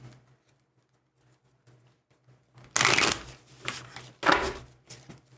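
Tarot cards are shuffled close by in two quick riffling bursts with a short clatter between them, following a quiet pause.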